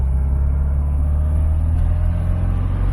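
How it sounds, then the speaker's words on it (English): 1970 Volkswagen Karmann Ghia engine rumbles low and steady as the car downshifts into first gear, a continuous close drone with no talking over it. "About right there, I shifted down into first gear."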